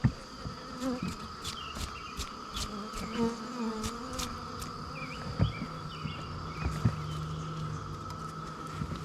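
Bees drone steadily around a hive, with individual buzzes swelling and fading close by over a constant hum.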